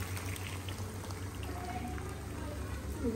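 Milk cream (malai) is poured into a pan of golda prawn curry, a soft, steady liquid pour that runs continuously at low volume over a faint background hum.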